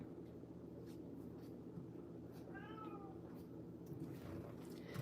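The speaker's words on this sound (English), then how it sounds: "You hear the cat?" A single cat meows once, a clear wavering call in the middle, over a steady low background hum.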